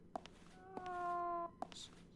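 Cat meowing in the video game Fragile Dreams, one drawn-out, clear meow lasting under a second, framed by soft clicks and a quiet game background.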